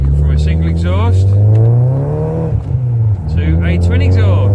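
Saab 9-3 with a custom decatted straight-through 2.75-inch twin exhaust and stage 1 map, revving hard close by, its engine note rising and falling in strong swells with a brief dip midway.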